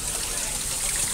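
Water flows steadily in an outdoor stream at Lou Lim Ieoc Garden in Macau, a continuous bright rushing and trickling wash with no pauses, close by and fairly loud.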